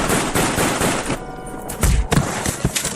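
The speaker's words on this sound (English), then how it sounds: "What do you think you're shooting at?" Rifle gunshots in a radio drama ring out as a rapid burst of sharp cracks and thuds, loud and close, with a few heavier shots near the end and no talking over them.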